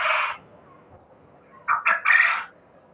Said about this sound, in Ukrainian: Кукарекають ці пацаны просто жесть.